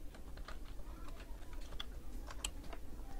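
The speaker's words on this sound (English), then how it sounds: "Type the characters in this image here in the bar." Fingers tap on a computer keyboard in a quick, uneven run of light clicks, close and quiet, with no talking.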